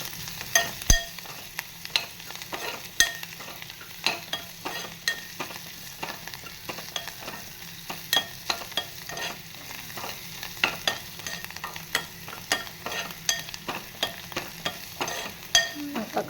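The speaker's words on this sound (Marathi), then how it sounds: "आता कांदा बिंदा मस्तपैकी असा परतवून घ्यायचा मस्त" Onions being sautéed in a hot pan of seasoned oil for a cluster bean curry, with a steady low sizzle broken by frequent sharp clicks and scrapes of a spoon stirring, close by and with no talking.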